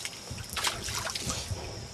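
Close splashing and sloshing in shallow swamp water, irregular little churns and drips over a muddy ambient background.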